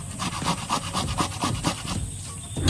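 Jackfruit seeds are grated by hand for pakora, making a close, rhythmic rasping of quick, even strokes that slows and stops near the end, with no talking.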